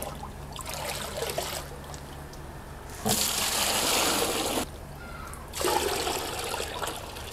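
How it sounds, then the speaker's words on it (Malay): Tap water pouring into a 20-litre container at home, a rushing splashing stream that comes in bursts, stopping and restarting, fairly close and steady between pauses. "Jadi saya akan masukkan air ke dalam tongcat ni."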